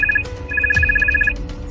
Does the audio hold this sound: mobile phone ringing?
yes